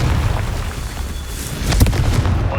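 Confringo spell explosion in Hogwarts Legacy, a deep rumbling boom over a low roar with a sharper crackling burst partway through, loud and close.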